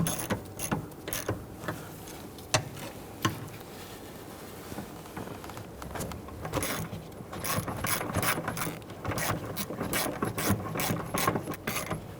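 A hand ratchet clicks in quick bursts while gently snugging down the brake master cylinder nuts on a 2011-2015 Kia Sorento, close and crisp, with irregular runs of ratcheting that grow busier toward the end.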